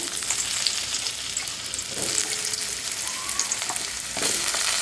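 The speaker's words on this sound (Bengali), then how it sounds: "তেলটা গরম হয়ে গেছে। এবার আমি এখানে দিয়ে দিচ্ছি কেটে রাখা আলুটা" Cut potatoes hit hot white oil in a pan and fry with a loud, dense, crackling sizzle that holds steady throughout, with a faint tool scrape or two and nobody speaking.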